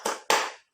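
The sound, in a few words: children clapping hands along with a song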